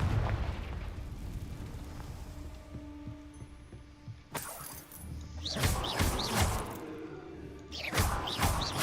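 A Confringo blasting spell in the game Hogwarts Legacy: fizzing, whooshing magical bursts, with a sharp crack, then two louder fiery explosions over a low ambient hum, moderately close, each ringing out briefly.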